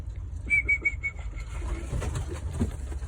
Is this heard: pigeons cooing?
yes